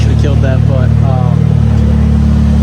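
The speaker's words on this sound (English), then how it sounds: "Sorry about all the motor noise in the background." A BMW E36 318i engine idling steadily with a constant low hum under a voice talking near the start.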